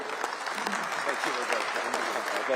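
A conference audience applauds a speaker, with dense, even clapping from many hands throughout, close and sustained with no break.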